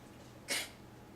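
One short, breathy burst like a quiet sneeze, brief and faint against a low background hum.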